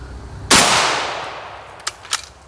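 A J.C. Higgins Model 10 bolt-action shotgun fires once at steel targets, a loud sharp blast with a long decaying ring, followed by two brief metallic clanks as debris or steel rings out.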